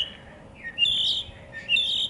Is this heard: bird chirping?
yes